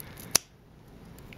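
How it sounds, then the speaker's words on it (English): Scissors make a single short, crisp snip while trimming fabric at the edges of a handmade scrappy thimble, and the room is otherwise quiet. "now I can come through with scissors if I want and just trim away anything funky that happened at the edges"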